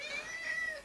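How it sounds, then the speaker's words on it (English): A pet cat screeches right after being fed: one short, strained, high-pitched cry lasting under a second, fairly faint and alone. "that is my cat screeching at me because we just fed her"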